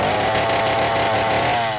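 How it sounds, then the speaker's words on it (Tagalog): A chainsaw engine runs steadily with a loud, continuous buzzing drone that holds an even pitch while cutting a coconut tree. "may ingay na madalas pumapailan lang. Nanggagaling sa tunog ng chainsaw ng 61 anyos na si Tatay Boyni."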